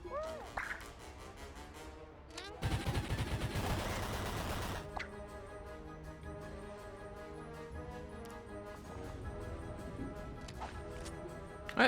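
Gunfire erupts in Mario + Rabbids Kingdom Battle, a dense loud burst of rapid shots lasting about two seconds, followed by sharp single cracks over quieter game music.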